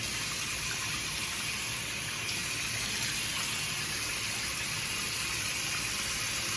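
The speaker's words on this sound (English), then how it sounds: "Sorry if the water's loud." Water runs steadily from a tap into a sink, a constant loud rushing splash close by, with no talking.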